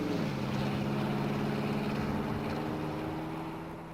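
A vehicle with a 4L60E automatic transmission drives on a road test, its engine holding a steady loud drone that rises slightly in pitch and then eases off and fades toward the end.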